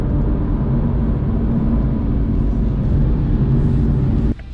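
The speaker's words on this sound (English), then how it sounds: "There's the first full acceleration from stop," A 2020 Toyota Supra accelerates hard from a standstill, its engine a loud, steady, dense roar held close for several seconds before it cuts off abruptly near the end.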